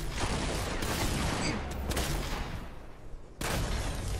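Shooting in a Fortnite match, a quick series of gunshots and mechanical clatter, moderately loud, with a short break before another burst.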